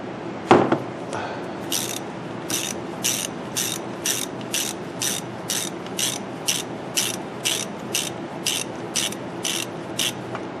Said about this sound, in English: you're going to take those two bolts out